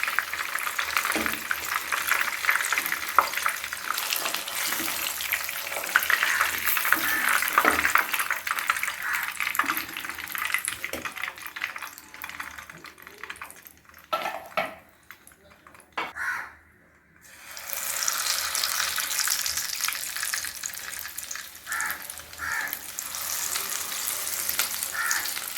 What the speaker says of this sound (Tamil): எல்லாத்தையும் பொரித்து எடுத்துட்டோம். 4 பீஸையும்.